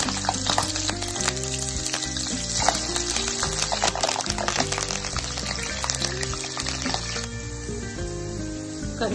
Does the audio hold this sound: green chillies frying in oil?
yes